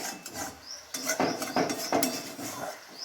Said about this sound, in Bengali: এইবার কষানো হচ্ছে করে নেড়ে চেড়ে নেওয়া হচ্ছে।